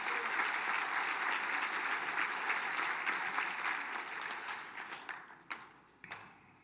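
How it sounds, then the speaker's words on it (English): A round of applause from an audience at a Mille Lacs Band of Ojibwe gathering, dense sustained clapping that thins out into a few last scattered claps at the end. "One more round of applause."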